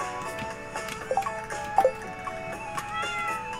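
A cartoon cat in the farming video game Stardew Valley gives a couple of short, bright meows over steady game music, the clearest about midway through.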